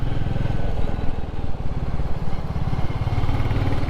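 Royal Enfield motorcycle riding along the Charmady Ghat mountain road, its steady thumping engine drone loud and continuous throughout, with no speech.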